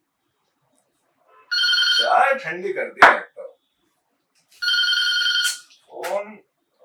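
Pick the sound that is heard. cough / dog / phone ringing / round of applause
phone ringing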